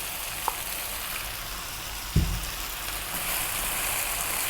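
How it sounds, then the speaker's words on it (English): Small-cut chicken frying on high heat in a hot pan as broccoli goes in, giving a constant hissing sizzle with a soft thud of the vegetables landing midway, no talk. "We're now going to add in the broccoli"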